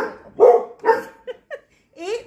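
Pet dogs give a few short indoor barks and yips at home, close and moderately loud, with a person's voice nearby.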